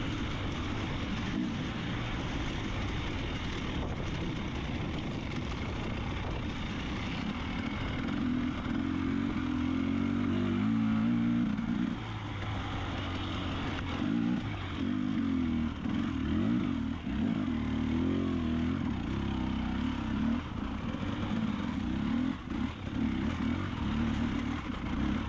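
A dirt bike rumbles steadily over loose rock in a hare scramble race, its engine droning close and continuous with throttle swells and rattling impacts throughout.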